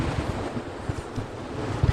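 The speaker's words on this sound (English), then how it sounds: "So this is one of the areas where the waves crash over the rocks." Waves crashing over a rocky shoreline at Bombo, Australia, a steady roar of surf mixed with wind buffeting the microphone, with a few heavier low thumps of water breaking against the rocks.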